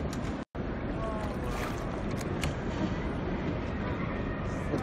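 Boat ride across the underground lake inside the Salina Turda salt mine, heard as a steady, enveloping wash of water and hollow cavern rumble with a brief dropout near the start and no clear voices.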